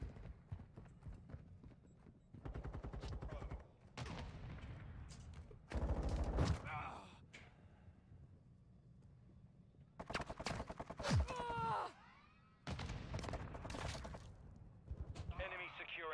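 Gunfire from a Call of Duty Warzone 2.0 match, with repeated bursts of shots mixed in among other game sounds and hoofbeat-like clatter, under a player's talk.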